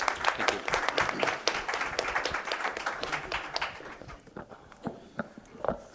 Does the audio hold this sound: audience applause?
yes